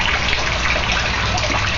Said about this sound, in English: they drain out of those pipes and into this tank